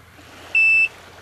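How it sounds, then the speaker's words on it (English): One short, clear electronic beep from the remote lockout of a 2011 Yamaha VX personal watercraft, high and piercing, sounds once against quiet background hum. "you hear one beep, and your starter is disabled"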